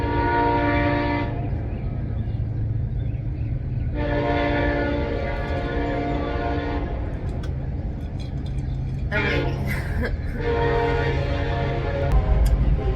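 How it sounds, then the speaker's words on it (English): A train rumbles past close by with repeated loud horn blasts, the steady roar of the cars continuing between the blasts. "I can see the train passing, like right now, I'm watching it."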